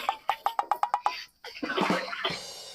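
Water spraying in short rhythmic bursts, about seven quick pulses, while a vehicle is being washed, followed by a longer uneven gush of splashing water, close and fairly loud.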